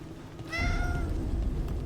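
A cat in the Dragon Age video game gives a single clear, close meow, rising then falling, over a steady low game ambience.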